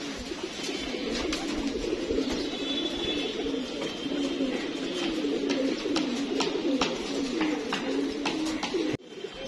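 A flock of pigeons coos steadily after being released, a continuous low burbling chorus close by, with faint wing flutters and light taps as birds land, lasting throughout with no talking.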